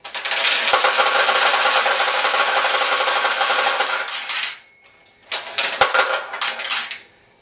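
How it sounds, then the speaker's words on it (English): Steel pachinko balls pour in a dense, loud metallic rattle into the receiving tray of a Nishijin machine, then stop briefly before a second, shorter burst of clattering balls. "you push this white lever over to the left, and when you do, the balls will flow down into your receiving tray"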